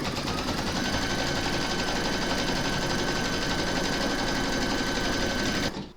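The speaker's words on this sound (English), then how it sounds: "you're going to stitch round number 1, and that's going to give you your placement outline for your fabrics" A home embroidery machine runs in the hoop and stitches a placement outline for a panty liner and bag set. The needle rattles in a loud, fast, steady, mechanical drone that continues unbroken and then cuts off at the end.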